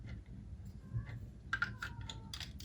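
Someone types on a computer keyboard, entering simple addition sums. Quiet, irregular key clicks come in loose bursts, with no talking.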